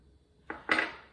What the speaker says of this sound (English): Then just use a fork to crimp those edges.